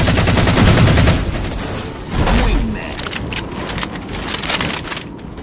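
Gunfire crackles through a Halo 4 Oddball match, bursts of shots and a heavy boom mixed with game effects and ambient noise, while a player talks over the action.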